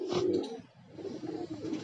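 An old, very large pigeon of fifteen years or more, with a clipped tail and trimmed wings, gives a close, soft throaty coo in two short rolling bursts.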